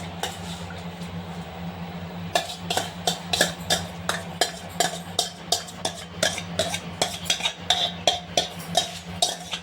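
Sago pearls being stirred into jaggery syrup in a pan for moong dal payasam: a steady run of sharp spoon-on-pan scrapes and clinks, close and fairly loud, starting after a quiet pause with a low hum underneath.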